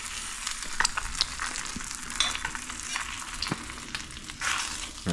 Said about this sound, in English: I'm gonna scrape this up and flip it over to get some extra crispy bits going